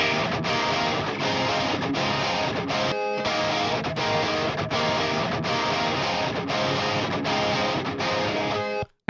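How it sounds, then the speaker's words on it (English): A heavy distorted electric guitar tone plays a driving, chugging riff with dense saturated harmonics, loud and alone, with a brief gap of near silence partway through and an abrupt cutoff at the end. "we can pull a little bit of low end out of the heavy guitars"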